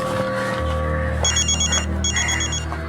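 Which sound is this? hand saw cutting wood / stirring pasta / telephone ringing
telephone ringing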